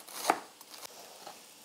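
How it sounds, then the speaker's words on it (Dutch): A kitchen knife slices thin strips of iceberg lettuce on a board, a few crisp, quiet cuts with one sharper stroke early and softer ones after, close up and without talk. "En dan kan ik die ook heel mooi dun snijden."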